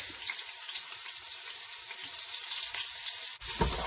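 Onions and garlic frying in a hot pot for chilli con carne, a constant bright sizzle heard up close and fairly loud. A brief dip and a soft knock come near the end, with no talking.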